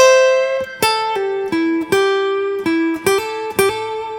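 Electric guitar playing a minor blues lick, with bends, hammer-ons and vibrato, as a phrase of about nine clear sustained notes played alone and close.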